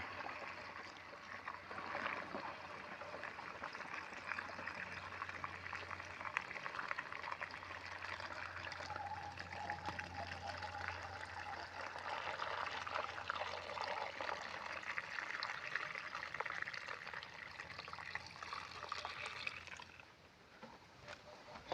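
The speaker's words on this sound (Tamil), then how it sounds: "ஃபுல்லாக ஊற்றி ஃபில் பண்ணிக்கலாம்" Water pours in a steady close stream into a sprayer tank that already holds pesticide, mixed for spraying a groundnut crop, and runs on for about twenty seconds before tapering off.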